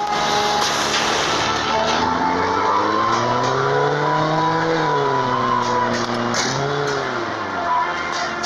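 A car engine in a gangster video game revs steadily, its pitch rising and falling in smooth harmonic sweeps, loud and continuous throughout with no talk.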